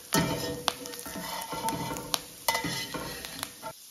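Morel mushrooms frying in a pan, a steady sizzle running underneath while a utensil stirs and scrapes, with several clinks of metal against the pan, close and fairly quiet.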